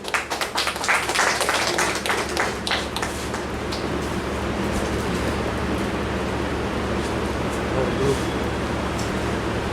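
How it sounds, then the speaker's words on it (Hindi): Applause at a ceremony honouring a guest: a crowd claps briskly at first, then the clapping thins into a broad, steady wash of noise. "जोरदार तालियों से स्वागत करिए"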